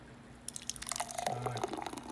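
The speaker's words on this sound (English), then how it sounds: "First pour the hydrogen smoothie." A thick hydrogen smoothie is poured from a blender into a glass, giving a close, wet glugging and dripping stream that starts about halfway through and keeps flowing with small splashes.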